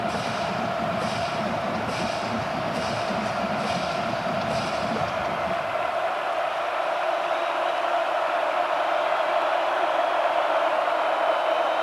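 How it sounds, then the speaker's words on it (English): A large stadium crowd at a Kansas vs Kansas State college football game roars in a continuous loud wash of noise, dense and rumbling at first, then thinning to a steadier hiss. "an early first down helps calm a loud crowd"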